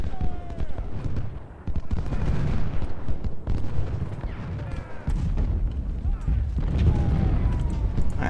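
Civil War artillery firing in the Ultimate General: Civil War strategy game, a steady roll of booms and rumbling gunfire layered with battle noise and a faint musical score.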